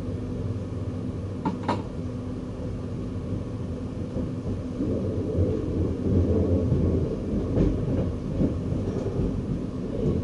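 A VIRM double-deck passenger train runs on Dutch rails, heard from the cab as a steady low rumble of wheels and motors that builds gradually, with a couple of brief high clicks early on and no talk.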